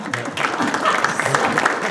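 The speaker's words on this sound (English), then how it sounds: "Give her a round of applause for that." Audience applause for the bass player at a fiddlers' school performance, a brief burst of dense clapping with some crowd noise, fairly loud.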